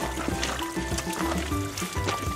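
Water trickles and burbles over rocks in a cold mountain stream on the trail to Cucamonga Peak, a steady close flow with small splashy bursts throughout.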